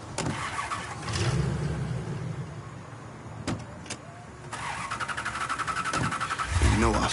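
Truck engine in a video game, cranking and starting, then idling with a rapid rhythmic pulse that builds louder near the end, with a few sharp clicks along the way.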